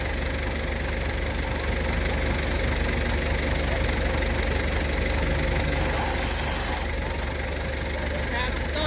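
A tractor engine runs steadily at close range while a round bale wrapper wraps bales for long-term storage, with a brief hiss of stretching film partway through and voices talking over the drone.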